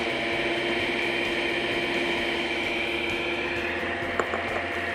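Electric hand mixer on its lowest speed whirring steadily through cranberry muffin batter, a continuous close motor hum with a faint click near the end.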